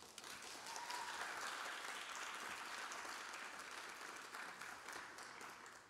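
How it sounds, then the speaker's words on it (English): Audience applause at a Bangor school committee and city council candidate forum: a sustained wash of clapping from a room full of people, heard at a distance and fairly soft, swelling slightly then tapering off near the end. "Applause is great, but let's hold it until the end of the forum."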